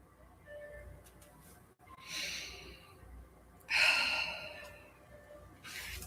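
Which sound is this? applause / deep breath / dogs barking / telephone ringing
deep breath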